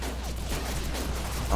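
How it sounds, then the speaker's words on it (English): Gunfire from the World War II shooter Call of Duty 2 crackles in a short, dense burst of overlapping shots under steady in-game background rumble, with a faint voice mixed in. "Uh oh, we're taking fire."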